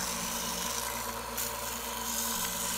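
A wood rasp or file scrapes steadily over a wooden chef knife handle made from scrap wood, rounding over its shape in a continuous close-up rasping stroke with no pauses.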